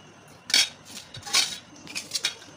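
Rice is served onto a plate with cutlery in a home kitchen, giving a few sharp metallic clinks and scrapes of spoon against dishware, spaced irregularly with quiet gaps between them.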